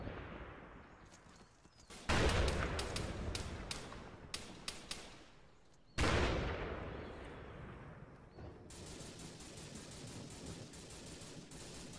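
Gunfire and explosive blasts in an Arma 3 Vietnam co-op battle: two sharp, loud volleys of shots with rolling echo and rapid follow-up cracks, then sustained distant firing trailing off.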